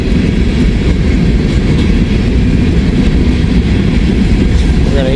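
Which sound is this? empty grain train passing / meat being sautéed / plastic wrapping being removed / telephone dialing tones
empty grain train passing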